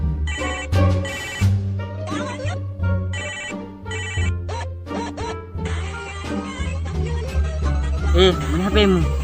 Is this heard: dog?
no